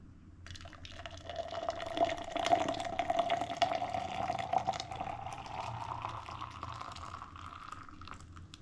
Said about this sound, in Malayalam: നമുക്കിത് ജാറിലോട്ട് ഒഴിക്കാം